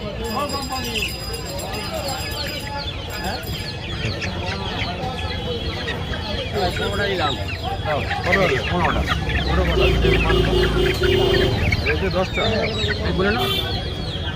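Chickens cluck and squawk continuously at a poultry market, close and busy, with occasional louder calls and a rooster-like crow, while people talk and bargain underneath throughout.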